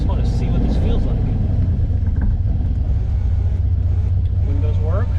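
Silver Ferrari 400GT engine while driving, with a clutch that grabs high: a loud, steady low rumble fills the cabin throughout, and a voice speaks over it.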